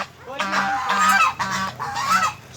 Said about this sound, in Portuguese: Os gansos. Ó, aqui é ganso.